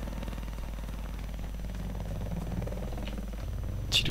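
Helicopter in the video game Battlefield 4, a low throbbing rotor and engine drone held steady at moderate distance, with a brief sharper sound near the end.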